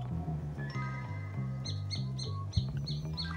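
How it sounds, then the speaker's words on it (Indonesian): A nightjar, the night bird locally called cabak, calls at a cemetery after dark, giving a series of short repeated chirping notes over a steady low background hum, with no talking. "suara burung malam sudah mulai keluar sobat. Biasanya itu orang nyebut burung cabak iblis sobat."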